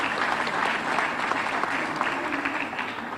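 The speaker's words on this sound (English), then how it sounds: "I would ask you to give them another round of applause" At the Hello Cabo Verde Expo 2011 opening ceremony, an audience applauds in a sustained, even wash of clapping that fills the hall without a break.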